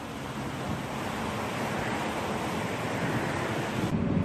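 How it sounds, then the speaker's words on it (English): Spring floodwater rapids rush over a bike trail in Minnesota, a steady broad roar of moving water mixed with wind buffeting, heard alone without voices. "Look at the rapids on that bike trail"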